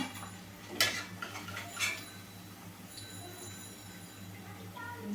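Fried gobi (cauliflower) pieces for Gobi Manchurian being transferred onto a plate in a home kitchen, with two distinct clinks of utensil against plate over a steady low hum.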